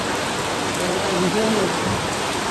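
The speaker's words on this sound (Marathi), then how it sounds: "पाऊस लागला बघू शकता बाहेर." Steady rain falls outside during a monsoon family stay at Ganpatipule on the Konkan coast, a constant, even hiss with faint voices barely audible beneath it.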